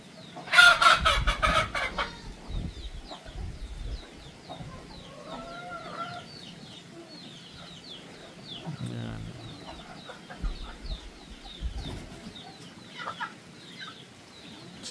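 Chickens, including a rooster, cluck and crow on a goat farm, with a loud burst near the start and then scattered calls and clucks at moderate distance over quiet background.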